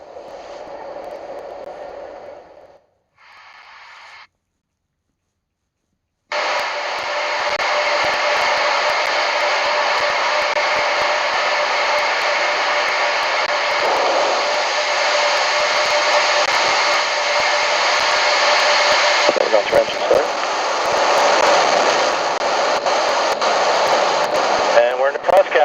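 Artemis moon rocket engines firing in a ground hot fire test: after quiet, muffled, broadcast-sounding passages, a sudden powerful roar begins and holds as a loud, steady, broadband rumble to the end.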